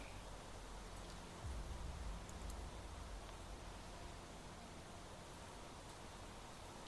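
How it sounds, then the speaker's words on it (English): Steady rain hisses evenly and without pause in The Planet Crafter, a soft, constant wash of falling drops with no voices. "I still hear the rain, but it stopped raining."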